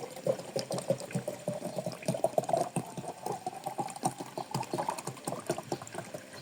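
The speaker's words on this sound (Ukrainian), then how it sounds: "Беремо мінеральну воду, наливаємо літру." A litre of mineral water pours steadily into a jar with a continuous splashing, gurgling rush, fairly close and even in level throughout.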